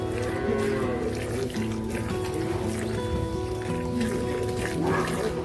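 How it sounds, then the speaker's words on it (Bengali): Cows low in deep, drawn-out moos amid a busy farmyard where cows are being milked, with overlapping calls and a faint trickle of water in the background. "এইটা গরু"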